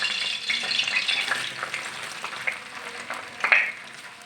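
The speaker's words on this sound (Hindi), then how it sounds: "अब हम इसी ऑयल में 2 कटी हुई प्याज डाल देंगे।" Chopped onions fry in hot oil in a home kitchen pan, giving a steady close sizzle with crackling spits and a few louder pops, with no voices.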